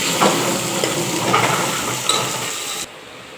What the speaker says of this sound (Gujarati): થોડું મીઠું ઉમેરીને તેને થોડી વાર હલાવી લેવાનું છે આ રીતે